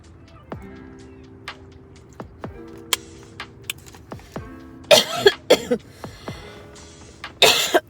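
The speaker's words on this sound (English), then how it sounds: "I got a little cough" A few sharp coughs break out near the end, after a quiet stretch of light clicks and taps close to the microphone.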